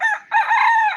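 A rooster on a small backyard chicken farm crows once, loud and close, a strained, bright call broken by a short gap before the long drawn-out finish.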